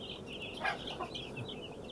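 Broiler chicks crowding a pen, a busy chorus of high cheeps and soft peeping calls at close range, continuous and fairly quiet, with no voices.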